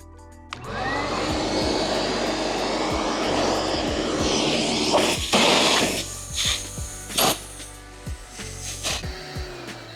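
Shop vacuum pulling string through a pool light conduit during a Hayward 320 pool light install, a steady loud suction roar that cuts off after several seconds into sputtering bursts and knocks.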